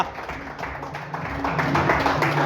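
An audience at an Ethiopian Easter (Fasika) cultural celebration applauds in a steady wash of clapping that swells slightly toward the end.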